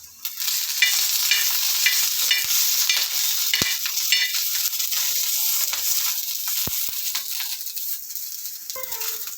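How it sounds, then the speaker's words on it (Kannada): Green chillies roasting in oil on a roti griddle, a bright continuous sizzle with rhythmic scraping and a few sharp metallic taps, close and steady throughout. "ಅದೇ ಹಂಚಿನ ಮೇಲೆ ಮೆಣಸಿನ್ಕಾಯಿ ಹುರ್ಕೋತಾ ಇದ್ದೀನಿ"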